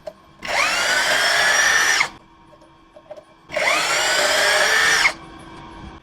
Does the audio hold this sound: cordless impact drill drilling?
yes